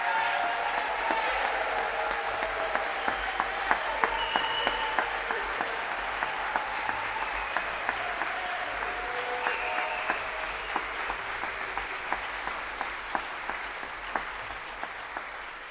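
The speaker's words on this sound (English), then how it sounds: "if we could give a rounding applause for them so they could hear us even" A worship congregation gives a sustained round of applause, many hands clapping steadily at moderate distance, with a few sharper individual claps standing out and faint voices underneath.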